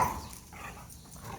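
Low, faint growling between dogs challenging each other for dominance without fighting, short rumbling snarls with a brief whine, close but quiet.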